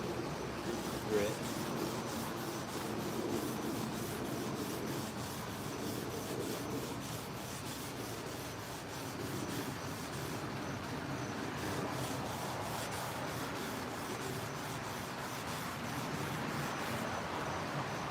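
Quiet, continuous rubbing of 600 grit sandpaper in steady back-and-forth strokes, a soft rasping scrape with no talk.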